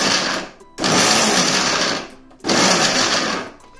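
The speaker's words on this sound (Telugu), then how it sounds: "ఇప్పుడు వీటిని మిక్సీలో కచ్చాపచ్చిగా గ్రైండ్ చేసుకుందాం" A kitchen mixer grinder coarsely grinds gooseberries for pickle in two loud, steady bursts of whirring motor noise, separated by brief pauses where the blades slow down.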